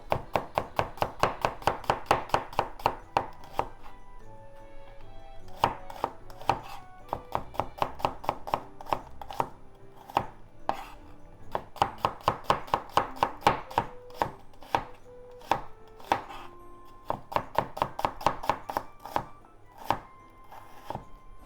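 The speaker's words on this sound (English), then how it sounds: "Cut into half and slice thinly." Rapid, even knife strokes on a cutting board in bursts, thinly slicing a peeled, halved ingredient, a crisp rhythmic tapping with short pauses between runs, close and clear.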